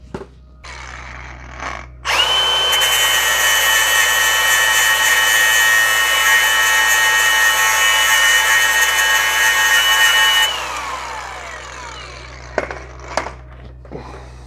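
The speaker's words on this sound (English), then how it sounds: "so time for the grinder" An angle grinder grinding down a welded-on tooth of a flexplate from a 1986 Chevy Suburban, heard up close as a loud, steady high whine for about eight seconds, with a few clanks before and after.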